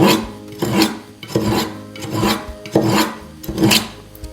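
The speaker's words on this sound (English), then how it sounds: "I'll use a veneer saw to trim the excess of this veneer off." A veneer saw trims excess wood veneer off a vintage waterfall cedar chest, making repeated rasping back-and-forth strokes, about six close, steady cuts with no talking.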